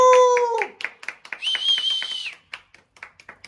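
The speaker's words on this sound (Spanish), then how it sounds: "Un aplauso, por favor." Scattered hand claps ring out around lively, overlapping voices and a high squeal, brief and close rather than a full round of applause.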